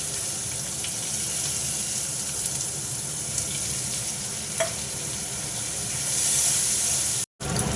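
Whole garam masala sizzles in hot oil in a wok, a dense, steady crackling hiss close to the microphone, with a brief louder swell near the end and a momentary dropout.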